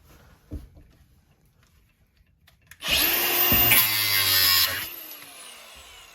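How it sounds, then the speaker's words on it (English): A power tool cuts off nails protruding through roof rafters during a rafter tail, fascia and soffit repair, sounding as one loud, steady, high whining burst of about two seconds that follows a few quiet knocks and winds down at the end. "we're cutting the nails off that come through so that we can get the rafter tails alongside of the existing rafters nice and snug"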